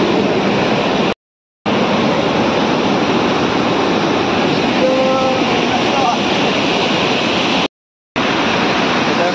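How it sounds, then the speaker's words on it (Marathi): Loud, constant roar of rushing water at Napne waterfall in Konkan fills everything, cut by two brief dropouts, with a faint voice buried in the noise. "कारण पाण्याचा खूप आहे इथे आवाज"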